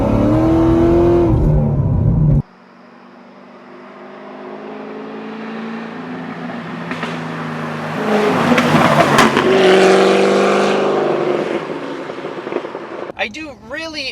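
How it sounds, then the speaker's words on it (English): A 600 WHP Cadillac with its electric exhaust cutouts open roars and revs hard, building to a loud burst mid-clip with tire noise, while someone talks at the start and end. "I do really enjoy having these electrical exhaust cutouts on this thing"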